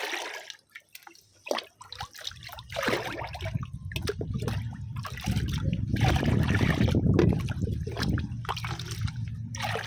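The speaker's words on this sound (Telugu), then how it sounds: "ఇందులో మనం ఇది మినపప్పు ఇడ్లీ రవ్వ కడిగిన వాటర్ కూడా యాడ్ చేసేసుకుందాము" Water left from rinsing urad dal and idli rava is poured into a container for an organic plant tonic, a steady splashing, gurgling pour that builds and continues close by, with no talk.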